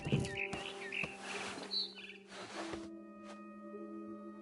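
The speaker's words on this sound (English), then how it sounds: "Then I heard chirping outside my window. It was a barn swallow going back to her nest." Bright barn swallow chirps and tweets in the video game What Remains of Edith Finch ring out in short bursts over a layer of sustained electronic tones, close and fairly clear.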